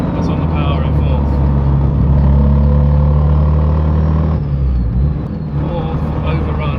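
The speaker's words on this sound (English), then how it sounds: "Don't know if you can hear that noise. That's on the power in fourth." A G25 660 engine fitted with a new tubular manifold pulls under power in fourth gear, a loud, steady droning hum close by that dips briefly partway through before resuming.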